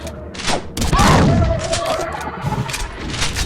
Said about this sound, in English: I blew one up with a grenade.